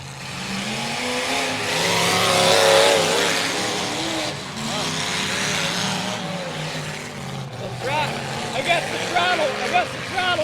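An engine revs hard under throttle at a live motor racing event, a loud roaring whine rising and falling throughout, with announcers talking over it.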